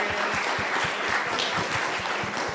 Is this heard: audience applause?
yes